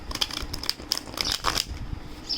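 A deck of tarot cards being shuffled gives a close, dry run of crinkly riffling and slapping card noises in quick, irregular bursts that last a couple of seconds, with no talk.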